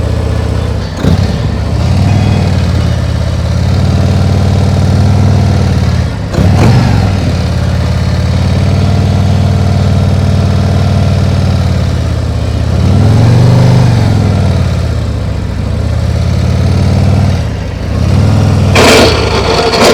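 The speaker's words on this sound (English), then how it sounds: "I'm saving the first scrape for Pula." 2021 Harley-Davidson Road Glide CVO on the road, its engine droning loudly and continuously with some rises and dips, ending in a brief harsh scrape of a floorboard touching down.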